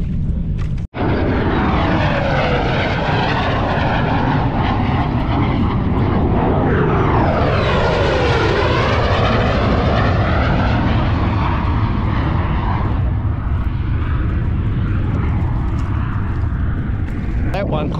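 A Royal Australian Air Force F-35 fighter jet flies over a fishing kayak on the ocean, a loud, sustained engine roar that swells to a peak around the midpoint as it passes close, then slowly fades off, with wind noise throughout.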